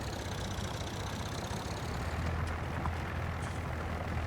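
A tractor engine runs at a steady idle, a constant low, rumbling drone that stays loud and unchanged from start to finish with no other sounds on top.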